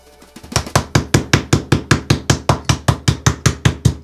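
Pork chops pounded flat with a meat mallet for a Polish Sunday dinner: about eighteen sharp, evenly spaced thuds in a fast steady rhythm, loud and close with nothing else heard.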